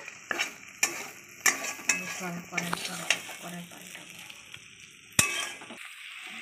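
Onion, spices and prawns frying in a wok, a steady close sizzle with a series of sharp scraping stirs and utensil clinks against the metal, building and easing in short bursts.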